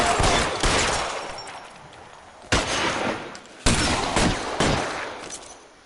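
Several bursts of gunfire from a shootout in the video game L.A. Noire, loud sharp reports at irregular intervals with a heavy echoing tail between them, no talking.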